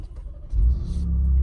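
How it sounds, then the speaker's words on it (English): A 2019 Ford Raptor's engine gives a low, steady rumble close by, swelling after a brief lighter idle into a deeper sustained drone with no talk over it. "that engine sounds wonderful."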